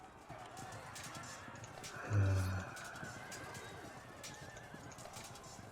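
Cavalry horses in the Field of Glory II strategy game, a steady clip-clop of hooves with a brief whinny near the middle, over a busy battle soundscape of moderate loudness.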